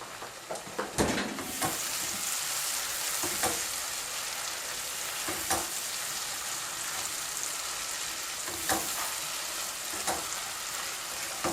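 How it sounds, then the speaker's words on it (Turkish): Zucchini sautéing in a pan with pepper paste, sizzling steadily throughout. Occasional louder crackles and spoon stirs break through. "Canlar kabakları da attım. Ee, bir de bu şekilde kavrulacaklar."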